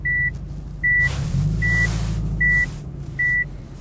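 Evenly spaced electronic reverse-gear beeps repeat five times over a low idling Subaru Impreza STI Type 25 engine rumble, a steady reversing warning tone.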